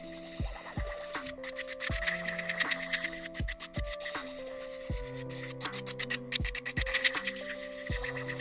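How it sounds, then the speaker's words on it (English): Steady fine rasping and rubbing of a fine-grit sanding band against plastic nail tips, with repeated short strokes and faint mechanical whirring throughout. "I'm going to use my fine grit sanding band, and I'm just going to remove the shine"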